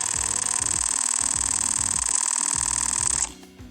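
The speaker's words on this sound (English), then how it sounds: "And if you take your photos in JPEG only, it will sound like this." A Canon PowerShot G7X Mark III compact camera firing a JPEG-only burst: a rapid, even run of soft close shutter clicks over a steady high whine, stopping abruptly near the end.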